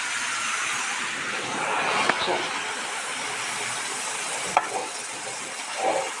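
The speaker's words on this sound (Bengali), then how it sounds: "আর এই যে কড়াইয়ে আলু আর ওই কাঁকরোলের চচ্চড়ি করছি" Potatoes and spiny gourd frying in a wok for a home chachchari, a steady soft sizzle and hiss with a few sharp scrapes of stirring, continuous and moderately close, no one talking.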